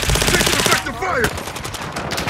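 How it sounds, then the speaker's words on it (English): Automatic machine gun fire rattles in rapid bursts during a Call of Duty: Modern Warfare II match, loud and close, mixed with game effects and brief radio-style voice chatter. "Taking effective fire!"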